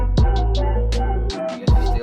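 Plain, dry bass line with no effects, deep sustained notes with a few short bright hits on top, a brief gap, then the line returns.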